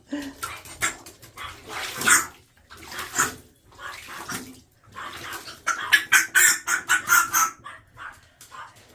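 Splashing tap water wetting a parrot's feet during cleaning, in bursts with pauses between, mixed with the bird's sharp squawks and chirps close to the microphone.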